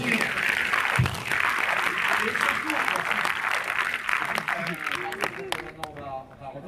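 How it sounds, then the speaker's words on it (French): An audience applauds loudly and steadily at a French film event with Gypsy musicians, the clapping blended with cheers and voices before tapering off near the end. "On les applaudit bien fort."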